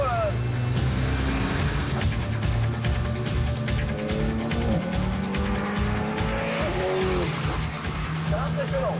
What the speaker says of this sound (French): on est parti sur ce très beau circuit de Bresse au volant de cette Alpine GT4 qui est quand même sonore